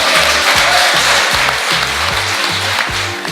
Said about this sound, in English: a round of applause for Pierre.